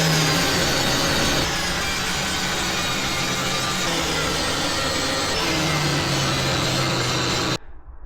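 A power tool grinds steadily against welds on a metal motorcycle trolley, a loud continuous whine and rasp that shifts slightly in pitch, then cuts off abruptly near the end.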